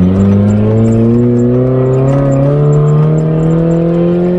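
A Talon car's engine revs loudly and close up under acceleration, its droning pitch climbing steadily and smoothly without a gear change across the run.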